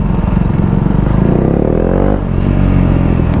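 A KTM RC390 motorcycle being ridden on new Zeneos ZN62 tires, its engine loud and close with a continuous roar and a noticeable rev change midway, heavy wind rush over it and no speech.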